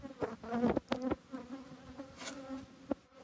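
Honeybees swarm close around an opened hive where young workers chew out of capped cells, producing a loud, wavering buzz with shifting pitch and no talking.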